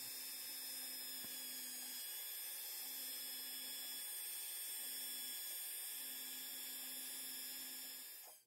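A 0.8 mm drill bit boring prong seats into carving wax, with a faint, steady high whine and soft, short grinding contacts repeating every second or so through the quiet.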